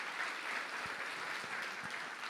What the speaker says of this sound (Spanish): Démosle un aplauso a Dios porque Dios es amor.